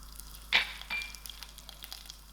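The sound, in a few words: curry leaf sizzling in hot olive oil in frying pan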